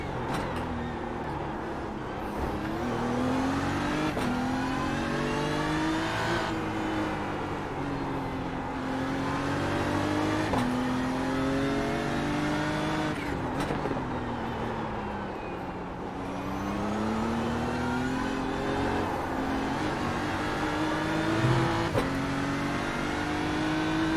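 A Lamborghini race car engine in iRacing at the Nurburgring drones steadily and close, pitch rising through the gears and dropping at each shift, with another car's engine running just ahead throughout.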